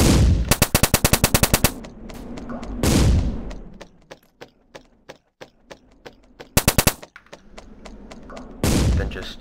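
Rapid automatic gunfire from a video game comes in loud, tight bursts separated by scattered single shots and a couple of heavier booming blasts, all close and punchy with no talk over it.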